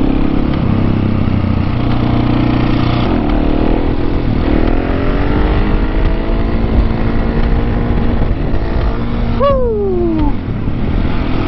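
A motorcycle engine chugs rough and uneven up close, loud and continuous with wind noise, with a brief rising whine near the end.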